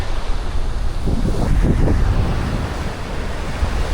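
Ocean surf washes ashore on Playacar beach in Playa del Carmen, a stretch of eroded sand. The waves make a continuous close rushing hiss, swelling briefly in the middle, over steady wind buffeting the microphone.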